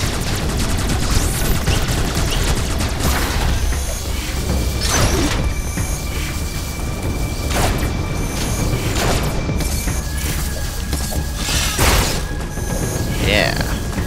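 Rapid-fire weapon shots in the Metroid Dread video game burst repeatedly over a dense, loud wash of game sound effects and music, with sharp blasts recurring every second or two throughout.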